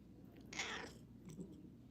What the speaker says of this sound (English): she likes to meow a lot